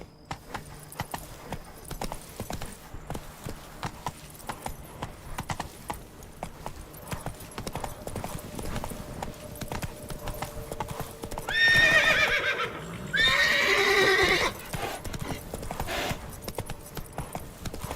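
Roach, a horse in The Witcher 3, gallops with a quick, steady clip-clop of hooves. Two loud neighs ring out near the end, with a brief spoken line heard in the scene.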